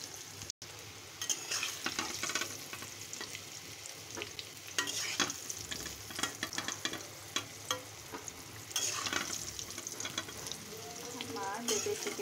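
Papaya pieces frying in hot oil, stirred and lifted out with a utensil: a steady sizzle runs throughout, broken by irregular scraping and clinking strokes, close and moderately loud, with no talking.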